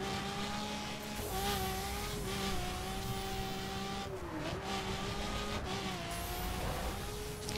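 Hypercar from The Crew racing game roars steadily under load through a circuit corner, its engine note holding high and rising and dipping with gear changes while tires spin and scrub in oversteer, loud and continuous throughout.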